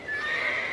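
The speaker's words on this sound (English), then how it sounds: "Poor quality horses!" Horse neighing in an Antarctic expedition comedy sketch, one brief shrill whinny with a wavering high tone, close and clear.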